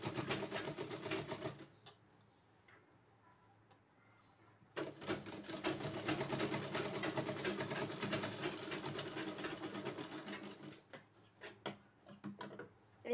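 A sewing machine stitching a frill onto the back neck of a blouse, running in bursts with a quiet pause between, a close rapid ticking whir that stops and restarts near the end.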